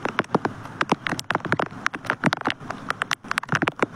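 Rain patters in quick, uneven drops striking a surface close by, a light, irregular tapping that continues throughout with no voices.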